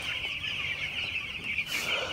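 Broiler chickens on a littered floor inside a poultry house cluck steadily in a dense, continuous chorus, with no talk over it.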